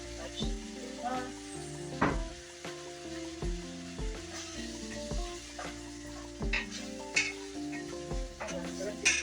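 A ketchup sauce sizzles in a pan under repeated stirring and clinks of a utensil, with a steady close frying hiss, and a voice talks at moments.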